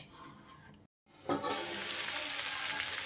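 Onion shoots fry in a pan as the water cooks off, giving a soft crackle that stops for a moment and then comes back as a louder, steady sizzle close to the mic.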